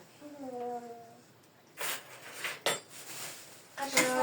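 A metal spoon clinks and scrapes against a dish in a few sharp taps while a child is being fed at a home breakfast, with someone speaking softly beforehand and between the clinks.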